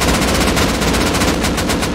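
AK rifle gunfire in the survival game Rust, a loud continuous burst of rapid automatic shots alone with no talk.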